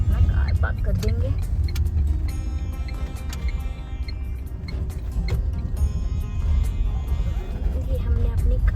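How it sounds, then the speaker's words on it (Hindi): A car is parked at the helipad car park for the Mata Vaishno Devi yatra. Its engine makes a steady, close low rumble for the whole stretch, with small knocks and clicks over it and muffled voices in the background. "यहाँ पे हम अपना कार पार्क कर देंगे।"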